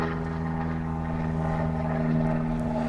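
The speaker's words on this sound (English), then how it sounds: "We'll wait for the plane to go through here." A propeller airplane drones loudly overhead with a steady, even engine hum that lasts the whole stretch, with no voices.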